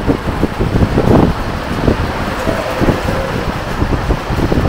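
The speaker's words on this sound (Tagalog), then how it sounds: "Sobrang lakas ng hangin." Strong wind buffets the second floor of a house, a loud, continuous low rumble with gusty surges and microphone buffeting.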